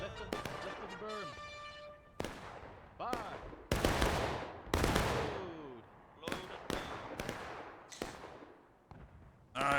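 Musket shots crack across a Civil War battlefield in War of Rights on Bolivar Heights, with a dozen or so sharp reports, some near and some distant, fired in an irregular scatter. Voices and calls are mixed in with the volleys.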